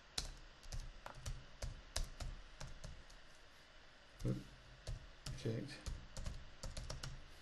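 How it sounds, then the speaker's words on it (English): Typing on a computer keyboard while entering a translation, a quick irregular patter of close key clicks with a few louder taps, under someone speaking quietly. "then I have to type the translation in."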